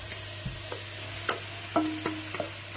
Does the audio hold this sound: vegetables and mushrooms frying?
yes